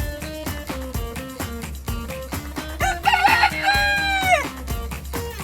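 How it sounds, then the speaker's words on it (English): A chicken hen's loud, drawn-out calls and clucks ring out over bouncy children's music with a steady beat, rising to a strong call midway before the music carries on. "It's a hen."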